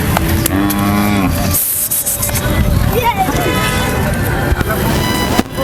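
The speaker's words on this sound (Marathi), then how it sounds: "तासगाव तालुक्यातील हा बैल आहे" A hot-blooded bull from Tasgaon taluka lows loudly and close at the Kharsundi Siddhanath fair, a long moo at the start followed by further bellows over crowd noise and voices.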